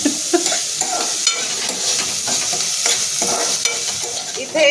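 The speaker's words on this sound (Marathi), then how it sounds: "कांदा लसूण टाकून छान तेलावरती परतून घेऊयात" Onion and garlic frying in oil, a close, bright sizzle with repeated stirring and scraping strokes of a spatula in the pan.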